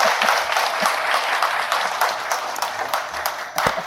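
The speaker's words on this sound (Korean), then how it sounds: "다시 한번 큰 박수로" An audience at a book concert breaks into steady, dense applause: many hands clapping continuously at moderate volume for several seconds, with no talk over it.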